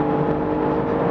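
An Alfa Romeo GTAm engine drones at high revs near 7500 rpm, steady and loud from inside the car, pulling hard under acceleration toward 200 km/h.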